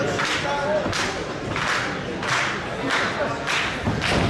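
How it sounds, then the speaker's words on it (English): Pro wrestling crowd at an Absolute Intense Wrestling match rallying behind Dominic Garrini, with rhythmic bursts of cheering and chanting roughly every half second over a constant murmur of voices. "This crowd that hasn't been too sure what to make of this combination of competitors actually starting to get behind Garrini a little bit after that one."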